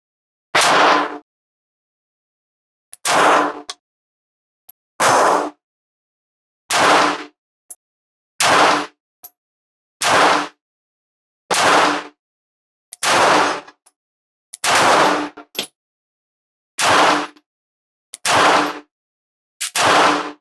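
Fourteen loud, sharp pistol shots from a S&W Bodyguard 2.0 Carry Comp at a shooting range, fired singly at a steady pace of roughly one every one to two seconds, each a sharp crack with no talking between them.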